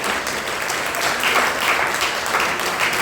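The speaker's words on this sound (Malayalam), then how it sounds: "നല്ലൊരു കയ്യടിയോടുകൂടി നമുക്ക് സ്വീകരിക്കാം" Audience clapping at a Nambudiri community association's 25th anniversary inauguration ceremony, a dense, steady round of applause from a crowd, moderately loud and sustained throughout.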